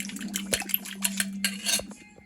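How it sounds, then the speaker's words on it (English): Shrimp and broccoli tossed with sauce in a dish, with light clinks of a utensil against the dish and a soft wet stirring over a steady low hum. "Mix it up."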